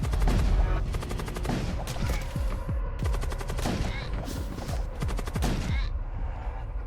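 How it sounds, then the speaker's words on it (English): Enemy ship weapons in the space game Void War fire repeated rapid volleys, bursts of sharp shots in quick succession over a continuous rumbling background. "They're firing multiple shots at us."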